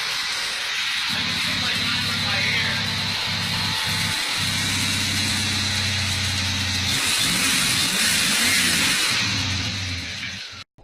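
A Mustang engine runs at a loud, steady idle nearby, then revs up with a brighter, rising roar before settling and cutting off abruptly at the end.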